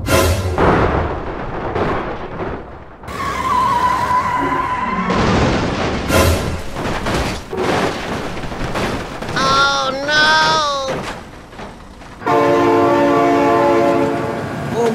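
In the BeamNG driving game, a train horn blares in loud wavering tones amid crashing and rumbling rail noise, ending in a heavy roar of the passing train; a voice shouts excitedly over parts of it.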